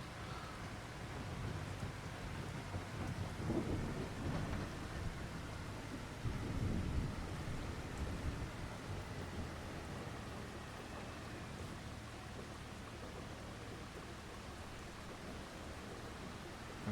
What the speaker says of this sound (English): stalled by the rain anyway